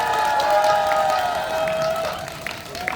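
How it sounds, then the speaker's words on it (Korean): Festival crowd applauding at an opening celebration concert at a grape festival, a steady wash of clapping and cheering throughout with a sustained tonal sound held above it. "우리 모두 큰 박수 한번 치겠습니다"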